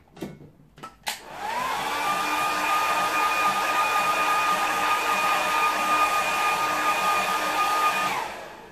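A hair dryer runs steadily over a wet watercolour painting on paper. A couple of sharp clicks come first, then a loud, even whirring blast holds for about seven seconds before it winds down.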